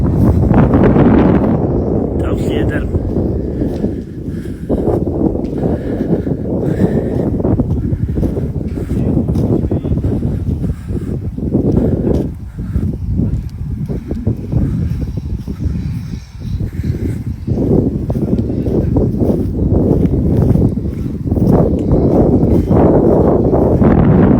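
Wind blowing steadily at a family campsite, a loud, continuous rushing and buffeting that fills the whole stretch with little letup.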